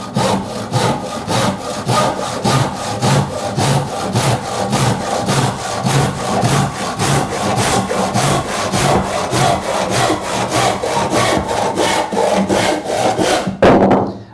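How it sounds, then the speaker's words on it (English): An Irwin universal hand saw cutting vertically through a piece of timber, loud close rhythmic rasping strokes at a steady even pace, ending with a final sharper stroke as the cut finishes. "I'm going to cut through this piece of timber along the line I've created, hopefully produce a vertical cut."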